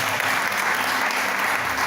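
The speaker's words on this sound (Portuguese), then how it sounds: "Dá uma salva de palmas para Jesus Cristo" Steady, dense clapping from a church congregation fills the whole stretch, loud and continuous with no voices standing out.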